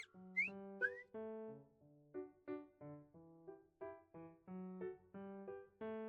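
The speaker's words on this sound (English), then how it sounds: "He adjusts the water level in the bird whistle several times. Sounds of various pitches are" A water-filled bird whistle from the game Love and Deepspace, blown in a series of about a dozen short warbling notes whose pitch changes as the water level is adjusted, clear and close with no voices.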